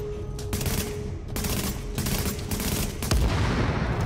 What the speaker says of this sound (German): Das Schild haben wir ihm auch schon fast weggeballert.